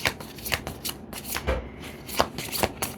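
A deck of tarot cards is shuffled by hand, a close riffling flutter of repeated soft card slaps in a quick, uneven rhythm, with no talk over it.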